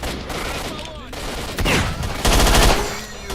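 Heavy gunfire erupts in the shooter STALKER Shadow of Chernobyl, a dense fusillade of overlapping automatic bursts that grows louder toward the end, with faint voices mixed underneath.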